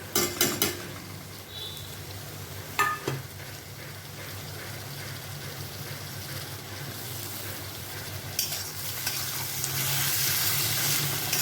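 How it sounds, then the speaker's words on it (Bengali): Onion, tomato and ginger fry in a pan with a steady, moderate sizzle, broken by a few sharp clinks of a utensil against the pan and a louder stirring burst toward the end; no one speaks. "খুব সুন্দর করে ভাজা ভাজা করে নেব।"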